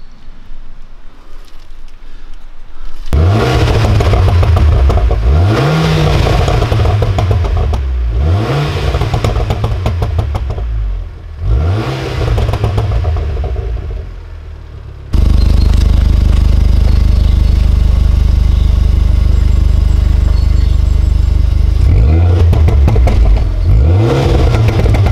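An Abarth 595 Competizione with an Akrapovic slip-on exhaust revs in repeated loud bursts that rise and fall, then settles into a steady, throaty drone before revving again, close and with no talking.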